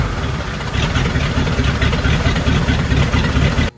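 An engine running loudly and close, a rough, steady idle with a rumbling low pulse that continues without a break until it cuts off at the end.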